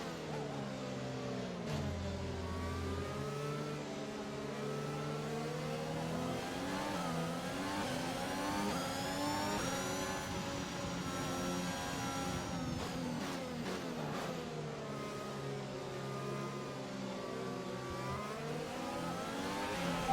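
Formula 1 cars from the F1 2021 video game rolling around the Bahrain circuit on the formation lap, several engines droning and revving steadily with rising and falling pitch, continuous and loud with no talk.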